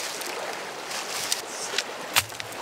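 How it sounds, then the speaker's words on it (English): Water rinses dirt and gravel through mining classifier screens at a gold dig in Montana, a steady close splashing wash with a few sharper gritty clatters of stones, no talk. "Gonna run it through our classifiers. A little bit. Get this dirt rinsed off."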